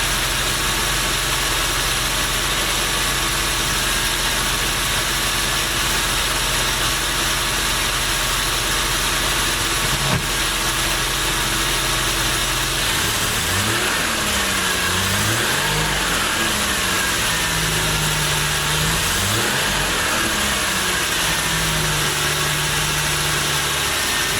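A rebuilt V6 MerCruiser ski boat engine rumbles steadily at idle, then revs up and down in waves, loud and close, with no talking.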